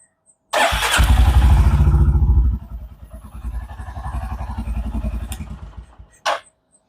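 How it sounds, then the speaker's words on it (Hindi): A Royal Enfield Hunter 350 motorcycle fires up with a loud burst at close range, revs briefly, then settles into a softer, steady thumping idle before cutting off and giving one last short blip. "और इंजन अगर मैं स्टार्ट भी कर दूँ आप लोगों को सुनाने के लिए, तो पहले इंजन आप स्टार्ट करके देख लीजिए।"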